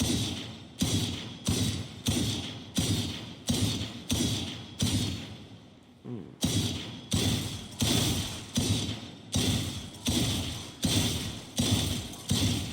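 Gunfire from a newly skinned weapon in the online shooter Outlaw, a steady run of heavy, punchy shots about every 0.7 seconds, loud and close, with one short pause midway.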